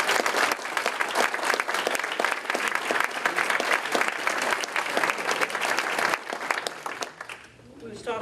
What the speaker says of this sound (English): Can we give Dr. Martin Luther King another round of applause?